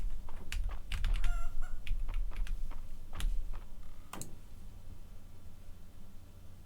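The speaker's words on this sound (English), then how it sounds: "let's take care of the chickens" Chickens cluck in the Fields of Mistria farming video game, with short repeated calls spread across the clip over a steady background hum, and a few sharper tapping clicks mixed in.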